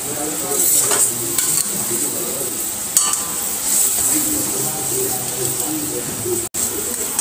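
Potatoes frying in a pan of oil while a fish curry is cooked, giving a steady, close sizzle with occasional stirring and light clinks of utensils against the pan throughout.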